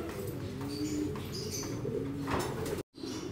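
Pigeons coo softly in low, rolling calls at a pigeon loft amid a busy outdoor background with scattered chirps, ending in a brief cut to silence.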